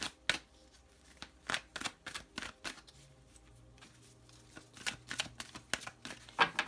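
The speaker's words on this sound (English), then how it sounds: "when I was shuffling the deck earlier" A deck of tarot cards is shuffled repeatedly, giving a series of crisp riffling and slapping bursts in an irregular rhythm, close and fairly quiet, with a faint low hum underneath and no talking.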